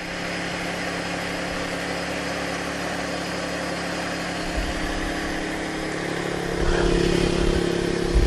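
An idling 2008 Buick Enclave engine hums steadily with a thin, continuous power steering whine riding over it; the rumble grows a bit louder near the end, and no one speaks.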